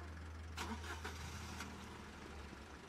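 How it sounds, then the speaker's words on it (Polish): A Toyota Yaris car engine cranks and catches, giving a faint starter whir followed by a low idle hum at a driving-test yard. "Odpala pojazd"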